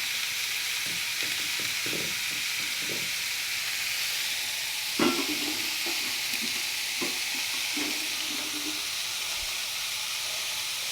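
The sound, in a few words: onions sautéing in a pan with salt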